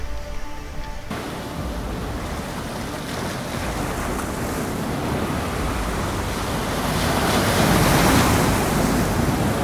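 Wind and surf at an ocean jetty on a cold, rainy day, with steady broadband rush of waves and gusts buffeting the microphone, building slightly louder near the end.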